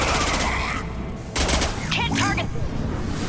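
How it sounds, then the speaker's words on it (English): High-impact gunfire in Mass Effect 2 Legendary Edition: dense rapid bursts of weapon fire at close range, broken by a short lull before another loud volley, with voices and combat noise mixed in. "Firing a high impact shot!"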